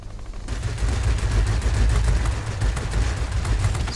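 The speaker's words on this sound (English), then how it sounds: "Let those rear guns deal with him" Rear defensive guns of a Me 410 fighter-bomber fire in a video game: a loud, dense, continuous machine-gun burst starts after half a second and rattles on without a break to the end.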